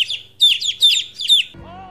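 Small birds chirp near a nest, four quick bright bursts of tweeting in a regular rhythm, close and loud, before a short low tonal sound cuts in at the end.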